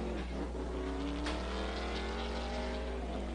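ARCA race cars at the finish of the 2018 Berlin race, their engines a loud continuous drone with rising pitch as they cross the line, no talk audible.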